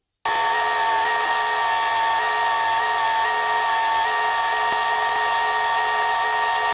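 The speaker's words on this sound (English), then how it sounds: "Put another belt on the sander and then just smooth it out." A belt sander smooths a multiplex (plywood) knife block, giving a loud, steady, close motor whine with a bright tonal buzz that holds level throughout and has no pauses.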